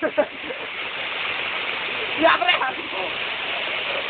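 Waterfall at Villa Adriano, a continuous rushing roar of falling water heard close and steady, with people talking and calling out over it.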